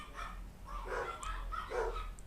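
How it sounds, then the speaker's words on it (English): A dog barks several times in quick bursts with a yipping, excited quality, at moderate distance over a low steady background hum. "Dog's going a little nuts."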